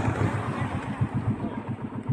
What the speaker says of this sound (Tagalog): Maandar na itong makina, umaandar na yan.